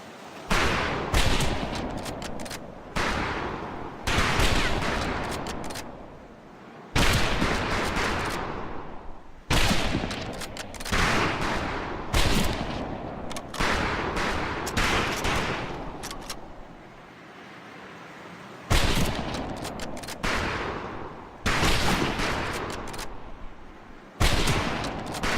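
Rifles firing at range targets during training in Medal of Honor Pacific Assault, loud volleys bursting in repeated clusters separated by short quiet gaps across the whole stretch.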